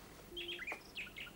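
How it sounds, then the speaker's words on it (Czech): Nightingales singing on Petřín hill, a quick run of bright chirps and short whistled notes, moderately near, with no voices over them. "Poslouchám Slavíky z Petřína."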